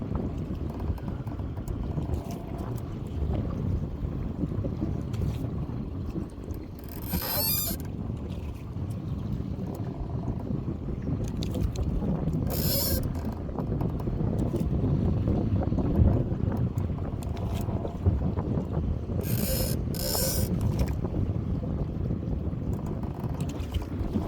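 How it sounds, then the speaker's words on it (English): Steady wind rushes over a boat out on open water during trotline crab dipping, a continuous broadband roar with occasional gusts buffeting the microphone, no voices heard. "This wind is a gift and a curse"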